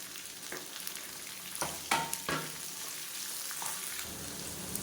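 Onions sautéing in a pan for chutney give a steady, close sizzle, broken by a few sharp stirring scrapes and knocks near the middle; no one speaks.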